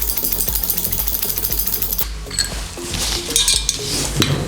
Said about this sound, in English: Close the valve and then pump the jack